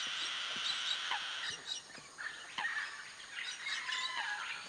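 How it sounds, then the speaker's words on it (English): A family of tropical birds calls in a wildlife reserve, a steady chorus of bright chirps, squawks and whistled notes overlapping continuously at moderate distance. "that tropical bird family is our most recent addition."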